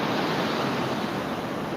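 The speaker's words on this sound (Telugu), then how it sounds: "సముద్రం అయితే చాలా బాగుంది" Steady roar of sea waves washing onto Pudimadaka beach, loud and continuous, with wind rushing across the microphone.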